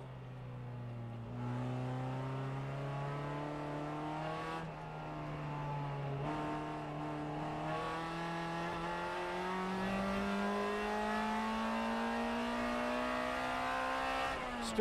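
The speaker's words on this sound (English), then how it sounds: "Now listen to this gearing, a little bit different. He'll be shifting quite often." Onboard at Homestead, a race car engine in a Continental Tire Series event drones close and loud, its pitch climbing steadily then dropping at each of several quick upshifts through the clip.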